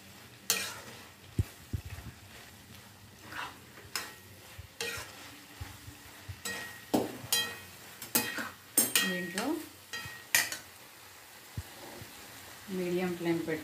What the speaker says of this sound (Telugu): ఇప్పుడు ముక్కలు బాగా ఫ్రై అయిపోయాయి.